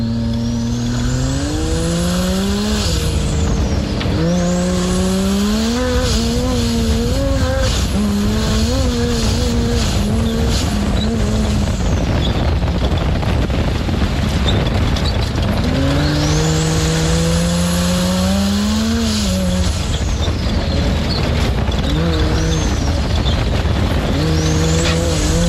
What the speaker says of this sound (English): I can hear that V8 out the back.